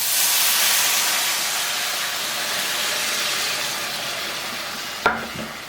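Stock poured into a hot pan of browned chicken bits gives a loud, broad sizzling hiss that fades gradually, with a brief clank near the end and no talk.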